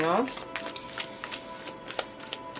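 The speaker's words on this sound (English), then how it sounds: "I am shuffling on camera" Tarot cards are shuffled by hand close to the mic in quick rhythmic riffles and flicks, with a voice talking over the start.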